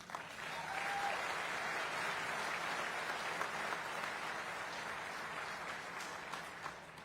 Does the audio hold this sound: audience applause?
yes